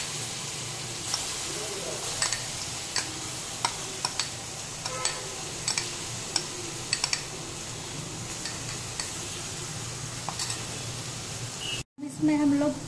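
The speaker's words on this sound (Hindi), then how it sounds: "अब इसमें हम लोग लहसुन, सरसों और मिर्चा का पेस्ट डाल दें।" Garlic, mustard and chilli paste frying in a pan with fish for a curry, a steady close sizzle with scattered ticks of stirring and spattering, cut by a brief gap near the end.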